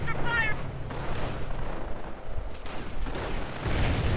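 Scattered gunfire from a Company of Heroes–style real-time strategy match as German grenadiers assault an American base, with rumbling battle noise and brief pops under a commentator's voice.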